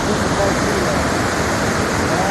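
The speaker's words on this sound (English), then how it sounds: "Made it to the waterfall." A waterfall near Cherokee pours in a constant, loud broadband rush, close and unbroken for the whole stretch.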